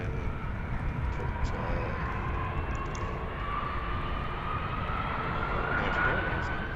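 A jet airliner roars steadily at Heathrow airport, a broad sustained engine rumble with a rising whine, heard at a distance.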